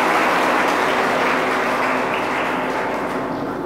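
A hall crowd at an institute event for civil-service exam toppers gives a strong round of applause, a thick, steady roar of clapping that thins slightly toward the end.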